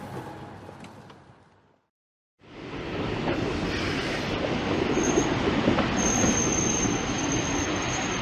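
A commuter train to Grand Central Station rolls along, with a loud steady rumble of wheels on the rails, a brief quiet gap near the start, and a high wheel squeal sustained over the roar.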